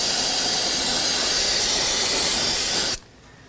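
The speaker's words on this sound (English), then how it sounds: "I'm going to go ahead and get some brake cleaner, spray the area down" A can of brake cleaner sprays onto the drum brake area of a 2013-2019 Nissan Sentra, a loud, close, continuous hiss lasting about three seconds before cutting off abruptly into quiet.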